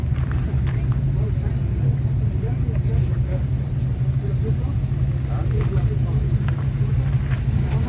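A 1966 Holden HR's old red 186 motor runs at a steady idle with a low, even rumble, heard up close at an outdoor show, with people talking over it.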